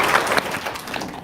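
An audience applauds, a dense, steady patter of many hands clapping at moderate loudness, brief and continuous without voices.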